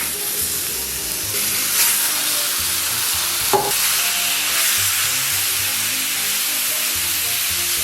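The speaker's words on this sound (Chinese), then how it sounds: "一定要这种滋啦作响的感觉啊" Meat sizzles loudly on an iron plate standing in for a traditional Beijing grilling griddle, a dense, constant hiss with a brief sharper spike midway.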